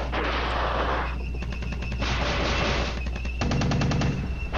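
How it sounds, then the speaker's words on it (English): Video game gunfire aimed at retreating tanks: rapid, evenly spaced automatic bursts that repeat loudly over a constant engine-like rumble, broken by short gaps. "We continue to fire on his tanks as they move back now."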